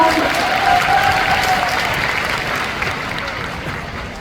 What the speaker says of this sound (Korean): 여러분 박수 한번 보내주시죠